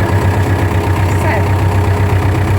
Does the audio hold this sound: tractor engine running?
yes